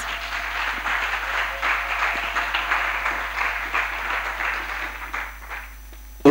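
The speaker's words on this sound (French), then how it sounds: "Clap for Jesus Christ." A church congregation at a French-English sermon on the Mount gathering applauds steadily for several seconds, a dense wash of clapping across the room that fades near the end.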